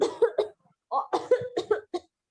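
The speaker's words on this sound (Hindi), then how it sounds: "खांसी क्यों नहीं बंद हो रही है आपकी?" A person coughs repeatedly in short, dry bursts, a few grouped together, then a pause and a further run of coughs, fairly close with no talk over them.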